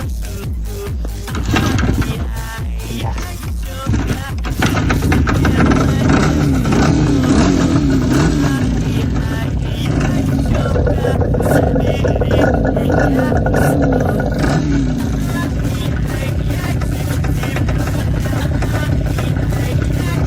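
An IZh Jupiter motorcycle engine, one that had seized, runs loud and close with a steady, rough two-stroke drone and clatter after a brief start, holding a constant roar for the rest of the time.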